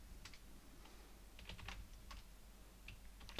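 Someone types a password on a computer keyboard in quick, irregular bursts of light key clicks, close and fairly quiet with no talking.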